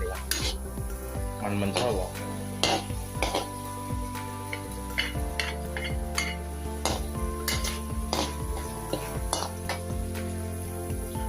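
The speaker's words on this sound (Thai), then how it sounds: "ต่อไปเจียวหมูสับเสร็จแล้วเราใส่กระเทียมนะครับ" Minced pork and garlic frying in oil in a pan, a continuous loud sizzle with repeated scraping and clinking of a spatula against the pan, close up, with someone talking over it at times.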